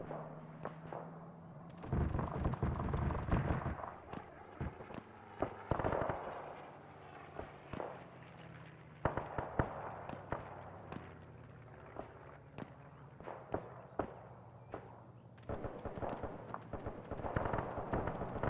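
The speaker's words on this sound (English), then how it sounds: "I'm hearing gunshots northeast" Gunfire at a WW2 Arnhem battle reenactment where players carry Sten guns: scattered sharp shots and short bursts crack at a distance, irregular and echoing, with brief talk in places.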